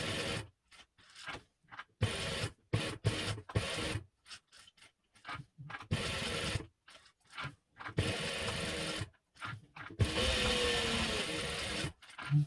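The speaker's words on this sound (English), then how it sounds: "I'm going to top stitch around all the edges and sealing off that closed end." A sewing machine topstitches around the edges of a travel organizer wallet in short, stop-start bursts of mechanical whirring and clicking, with pauses between runs and a longer stretch of stitching near the end.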